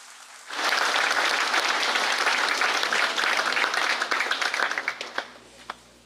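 Audience applause at the 23rd FSM Congress national government leadership organization ceremony, honoring congress members: a dense, loud burst of many hands that starts abruptly, holds steady, then thins into scattered final claps.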